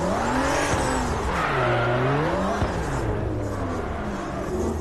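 A car drifting in a racing video game, its engine revving up and down steadily while the tires squeal continuously, loud and close throughout, with no talking.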